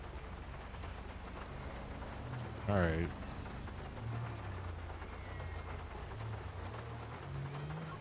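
Steady hiss of rain pours throughout with low rumbling underneath in the video game GTA 5, and a brief spoken phrase cuts in near the start.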